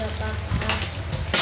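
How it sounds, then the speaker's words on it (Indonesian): Tilapia seasoned with a hand-ground paste of shallot, garlic, ginger, turmeric and coriander fries in a pan, giving a close, steady sizzle with a few sharper crackles. "saya lagi mau goreng ikan mujair yang kemarin saya beli di tukang sayur itu"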